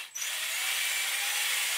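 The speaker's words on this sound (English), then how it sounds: "I also have my drill here attached to the bottom of the distributor so I don't have to spin it by hand" A power drill attached to the bottom of a car distributor spins it in place of turning by hand, giving a steady, high-pitched motor whine that starts after a short gap and holds evenly to the end.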